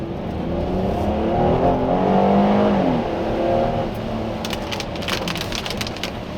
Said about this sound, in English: It's definitely making it difficult for me to test the acceleration of this car, as the front tires are struggling to put down grip.